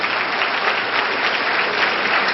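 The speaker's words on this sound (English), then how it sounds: "A big round of applause." Applause from an audience at a speech about digital courts in Kerala, a brief, dense and steady roar of clapping from many hands, heard alone without talk.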